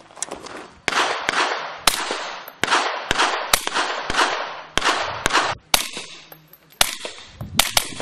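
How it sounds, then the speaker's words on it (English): An SPS M4 rifle in 300 Blackout firing subsonic 220-grain rounds: a rapid series of sharp, close shots, about one or two per second, each with a short ringing tail. "This is the M4 300 blackout subsonic 220 by SPS, and we're going to put it to the test and you know, see how it fires."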